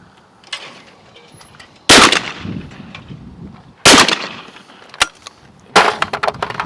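Sharp, loud cracks from a Webley & Scott XSP air rifle fire about every two seconds, each followed by a short clattering tail and a fainter impact.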